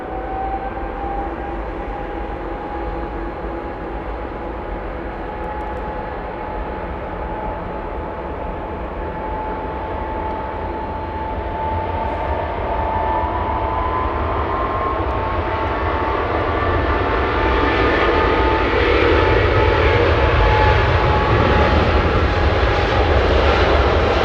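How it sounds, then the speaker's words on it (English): China Eastern jet departing Los Angeles International Airport as its GE90 engines spool up, a rising whine and deepening roar that builds in loudness over about twenty seconds, with no talking. "We got G90s powering up. China Eastern 7578 flying to Shanghai."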